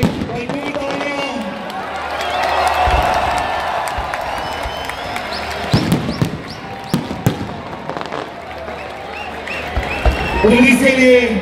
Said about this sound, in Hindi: तमाम सिक्योरिटी फोर्सेस के लिए भरपूर तालियां।